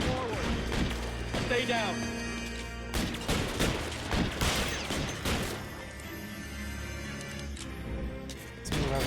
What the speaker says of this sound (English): shooting them like that is not gonna work